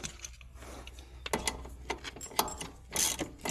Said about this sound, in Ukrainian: всі три болти треба дотягнути